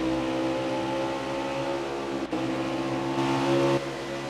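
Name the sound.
race cars on track at Iowa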